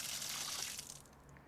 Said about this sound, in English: now we have water